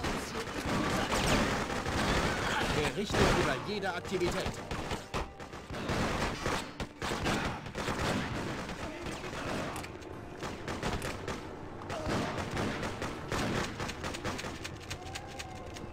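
Rapid bursts of video game gunfire from Freedom Fighters crackle continuously at close range, with dense volleys and a few sharp pauses, and a brief spoken line near the start.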